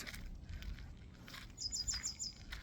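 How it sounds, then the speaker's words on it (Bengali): Birds chirp outdoors during an evening walk around sunset, a few faint, quick high chirps over soft, quiet background noise. "আমেজিং লাগে, পাখির আওয়াজগুলো"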